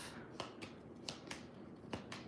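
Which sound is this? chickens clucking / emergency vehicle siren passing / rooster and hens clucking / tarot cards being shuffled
tarot cards being shuffled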